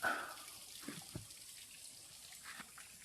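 A faint trickle of water runs quietly down the nearly dried-up Busay Falls in Buhi, Camarines Sur, with a few soft drips and splashes breaking through a low, steady background hiss.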